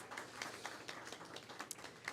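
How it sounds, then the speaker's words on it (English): An audience at an evening panel discussion applauds with light, scattered clapping that stays fairly soft and even throughout. "Please give yourselves a round of applause"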